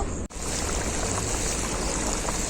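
Coconut milk poured into a simmering prawn malai curry in a pan, a steady close liquid pour with a brief break near the start, then continuous splashing flow.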